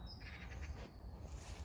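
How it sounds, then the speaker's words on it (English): A magpie calling in a garden, a short harsh chattering burst that sounds faint and distant over a low background rumble. "Magpies."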